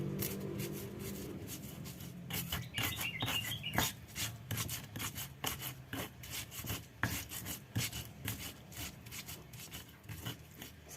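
Spices ground in a stone mortar with a pestle in a home kitchen, a steady run of close rhythmic rubbing and knocking strokes, with faint chirps in the background.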